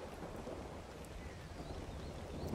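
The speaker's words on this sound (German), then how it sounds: "Richtig schön Blitz und Donner." A thunderstorm in the game ARK: Survival Evolved, on the Center map, brings steady heavy rain with a low, rumbling wash that holds throughout, at moderate volume.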